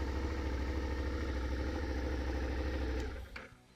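A Suzuki SV650 motorcycle engine, electric-started, idles steadily with a low, even rumble, then cuts off near the end, leaving a brief fading rattle.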